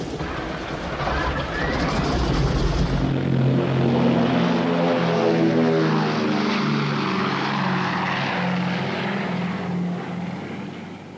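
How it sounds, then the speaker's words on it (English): Droning propeller engines of a B-17 bomber, a loud, steady multi-engine roar with a throbbing, wavering pitch that fills the whole stretch as a sound effect for a board game. "The bomber stream forms up over England"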